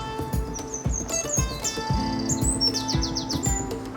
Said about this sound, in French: L'oiseau, il s'est donné là pour la vidéo.